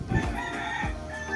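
A gamefowl rooster crows close by in a short, loud call, with background noise behind it.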